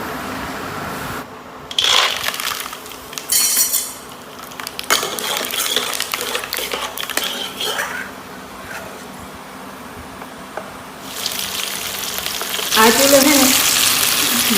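Semolina roasting in a pan, followed by a splash of oil for a spiced tempering, in a village kitchen; bursts of sizzling and frying crackle rise and fall, with stirring and scraping and a louder hiss building near the end.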